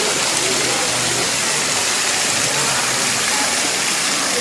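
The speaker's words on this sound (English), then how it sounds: "standing right underneath the top of the mountain where the water comes flooding down from" Water from an Amazon jungle waterfall pours down from a mountaintop in Brazil, a loud, steady broadband roar heard up close with no pauses and no voices.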